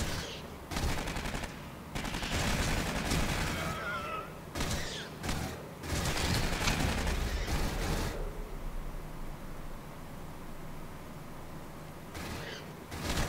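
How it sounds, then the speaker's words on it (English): Smart gun turret in the video game Aliens: Colonial Marines opening fire, rapid automatic bursts in several loud stretches separated by short pauses, with lighter ambient game noise between them. "There we go, now it's shooting."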